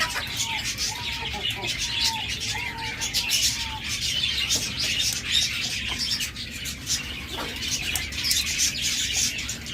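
Caged pet cockatiels, lovebirds and budgerigars chirp and tweet in a dense, continuous chatter with occasional wing flutters, a voice talking underneath.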